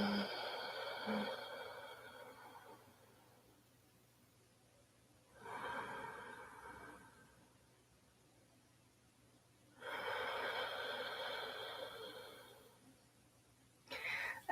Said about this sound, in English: I'll give you a demonstration of how this breathing sounds